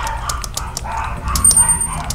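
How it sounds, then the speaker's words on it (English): In the background, dogs bark and yip in a rapid series of short, sharp calls over a steady low rumble of movie sound, moderately loud and somewhat distant. "you hear a lot of explosions in the background of dogs barking"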